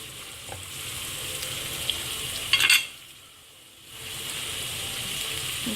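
Sri Lankan fish curry stirred in a pan, with a steady close sizzle and scraping stir strokes, a brief louder clatter midway, then a short quieter pause before the frying resumes.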